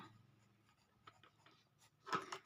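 Pen or pencil writing on paper during a Class 5 maths lesson on angles, a faint scratchy scribble with a louder burst of strokes near the end, alone without talk.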